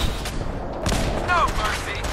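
Rapid bursts of gunfire rattle through a Fallout battle between the Enclave and the Brotherhood in the America Rising 2 mod, with fluctuating volleys and sharp cracks.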